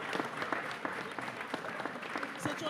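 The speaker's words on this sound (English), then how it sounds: "A round of applause because I know we're very excited." Audience applause at a live training event, steady clapping from a seated crowd filling the whole stretch at moderate level, with no one speaking over it.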